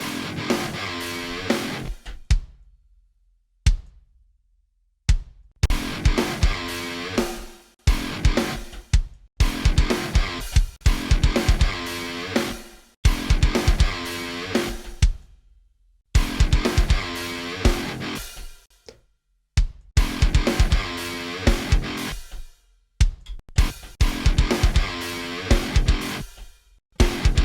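A programmed MIDI drum riff covering the first couple of bars, played back in several short loud passages separated by brief silences, with punchy kick hits and dense cymbal texture.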